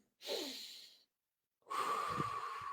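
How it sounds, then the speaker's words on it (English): A person breathes slowly in and out during meditation: one long airy inhale, a second of silence, then a longer, fuller exhale, close and clear with no talking. "when you breathe in and out"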